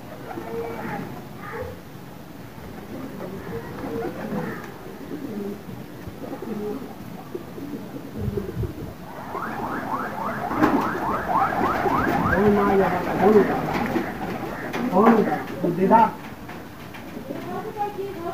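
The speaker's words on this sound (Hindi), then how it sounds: "कबूतर आया हुआ दीदी" A pigeon coos at a house in a run of soft rhythmic calls, partly under Hindi speech and other household sounds, louder toward the middle.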